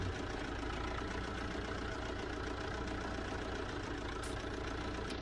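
Cold Zetor 6011 tractor engine running on a farm, a loud, dense, steady rumble close by, unbroken throughout with no voices.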